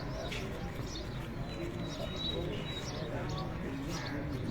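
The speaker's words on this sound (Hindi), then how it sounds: "11वां कबूतर भी उत्ते आए हैं जी।" Racing pigeons settle onto a champion fancier's rooftop in Punjab, with soft coos and scattered chirps from the birds over steady outdoor background noise.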